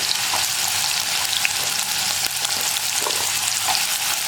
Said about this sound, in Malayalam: ഇനി നമുക്ക് നമ്മൾ കഴുകി വൃത്തിയാക്കി വെച്ചിരിക്കുന്ന ഉരുളക്കിഴങ്ങ് എണ്ണയിലേക്ക് ഇട്ട് കൊടുക്കാം